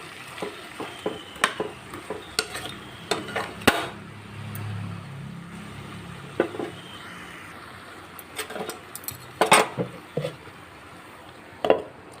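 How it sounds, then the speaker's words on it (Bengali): Jackfruit with spices is stir-fried over a low flame, with a soft, quiet sizzle beneath repeated sharp scrapes and knocks of a spatula against the pan, in uneven bursts; nobody talks. "এঁচোড়টার সঙ্গে মশলাটা ভালো করে কষিয়ে নিচ্ছি হালকা ফ্লেমে একদম"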